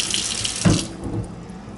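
Hot water from a stainless steel sink tap runs at good pressure and drains straight out, a steady close rushing spray that swells briefly and then settles, with no voices.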